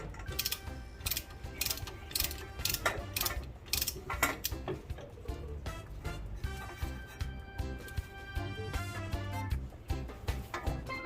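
Close up, a ratchet wrench torques bolts to 80 foot-pounds on a Mitsubishi Evo X, with rapid clicking in repeated bursts and metallic handling noises between strokes throughout.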